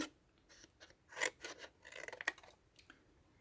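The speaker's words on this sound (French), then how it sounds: "vous allez venir détourer, enfin découper" Scissors snip through paper while shapes are cut out for a Halloween pumpkin craft, a quick run of close, crisp cuts and rustles in an otherwise quiet room.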